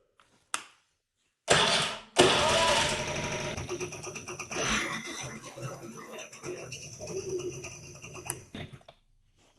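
Scooter engine with its auto choke reconnected cranks in short bursts, then catches and runs with an uneven, fluttering idle that rises and settles, fairly close, with no talk over it.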